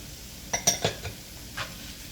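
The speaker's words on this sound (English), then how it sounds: "Now my potato is cooked, so I'm just gonna go ahead and add the shrimp" Cooked shrimp tipped into a pan of frying potatoes: a few quick clinks and scrapes of the spoon against the pan over a soft sizzle, close and brief.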